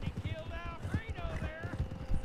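Horse hooves clip-clop in a quick, steady rhythm in a western video game, moderately loud, with talking over them.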